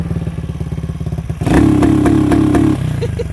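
An engine fitted with an adjustable ignition cut-off module idles with a rapid pulsing, then revs hard to about 4000 rpm. It holds there with sharp stuttering cut-off pops before dropping back to a throbbing idle.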